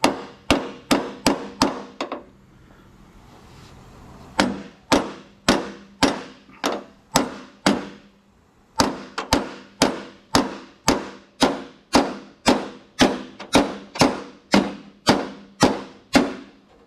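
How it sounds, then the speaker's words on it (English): A hammer pounding a door hinge pin into a 1982-92 Camaro/Firebird door, sharp metallic blows struck in steady rapid runs, close and loud, with a short pause after the first burst and a longer one midway. "I think I'm just going to pound this back in"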